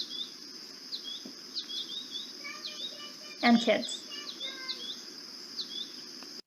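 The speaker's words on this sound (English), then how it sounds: "And that's all goldfinches that you hear." Goldfinches chirp and twitter in quick, high bursts among cup plants over a steady insect drone, with a brief spoken word partway through.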